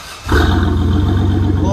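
A lowered GMC Sierra with a 4.3L V6 and Flowmaster Outlaw side exhaust is revved, bursting from quiet into a loud, deep rumbling roar that holds steady up close, with a voice speaking over it.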